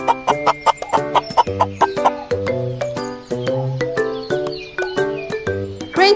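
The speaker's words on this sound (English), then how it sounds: "we have a hen." Hen clucking in a farm setting, a rapid series of loud, close, choppy clucks and squawks repeating irregularly throughout, with no talk.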